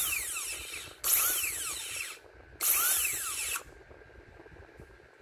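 Dental handpiece with a burr cutting a mandibular first molar preparation: two close, piercing high-pitched whines, each about a second long with gliding pitch, separated by quieter pauses.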